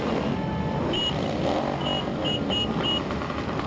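Parade vehicles of the Medina Motor Corporation rev their engines at a Memorial Day parade, a loud, steady engine roar filling the street with a few short high whistle-like tones cutting through.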